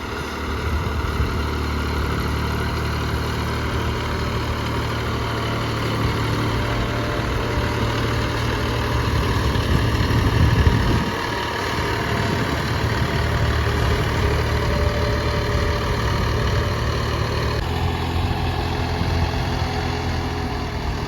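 A tractor engine ploughs a farm field, a steady low diesel rumble running continuously up close, with a brief swell in load midway.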